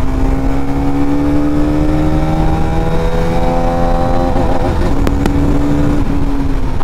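A motorcycle engine revving while being ridden at speed, a loud, steady drone whose pitch climbs gradually through the gears, close up with wind buffeting and no talking.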